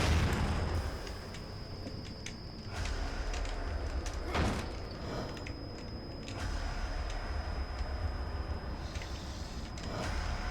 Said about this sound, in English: Well, I wasted an explosion.